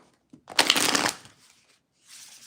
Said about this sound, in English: I'm going to be shuffling the deck 3 times like I always do.